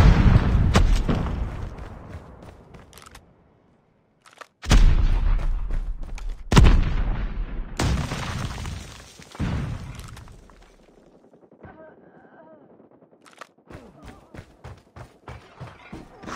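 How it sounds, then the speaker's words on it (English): Airstrike explosions in the Call of Duty Mobile video game: a run of loud, close, heavy booms with crackling tails, separated by quieter stretches, then lighter thumps toward the end. "Friendly airstrike incoming."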